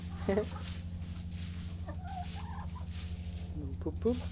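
Hens cluck softly and intermittently nearby in a henhouse in winter, their calls rising above a steady low mechanical hum.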